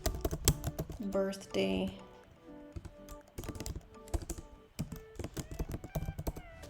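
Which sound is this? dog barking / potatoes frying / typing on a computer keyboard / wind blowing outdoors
typing on a computer keyboard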